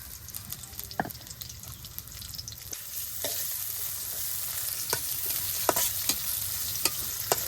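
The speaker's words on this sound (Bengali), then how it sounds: "কড়ার উপরে দিয়ে দিলাম পেঁয়াজ কাঁচামরিচ" Onion and green chilies fry in hot oil in a wok, making a constant dense sizzle and crackle, with occasional scraping taps from a stirring utensil near the pan and no voices.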